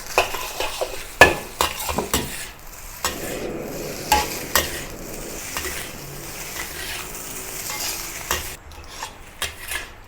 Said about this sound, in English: Continue frying the rice over medium heat now for about a minute so that each rice grain is lightly toasted